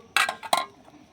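Lid set onto a cooking pot of simmering food in a home kitchen, giving a pair of quick metallic clinks and clatters, close and fairly loud, with no talking.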